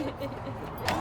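A set of keys jangles briefly and close by as they are handed over to new homeowners of an affordable home, a short metallic rattle over faint background sound.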